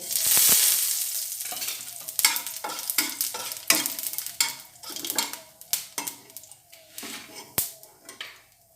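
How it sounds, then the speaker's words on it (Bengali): A halved dried red chilli and nigella seeds temper in hot oil. A loud opening sizzle settles into crackling spatter, punctuated by repeated stirring clinks and scrapes against the pan. "এবার ফোড়নে দিয়ে দেবো একটা শুকনো লঙ্কা অর্ধেক করে আর কালো জিরে"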